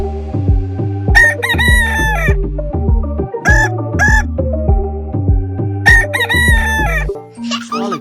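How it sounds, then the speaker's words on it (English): A rooster crows in a toy or cartoon-style setting, its bright, rising call repeated over a throbbing, humming musical bed, loud and close throughout, with a short electronic flourish at the end. "Oh ho, this one is a rooster."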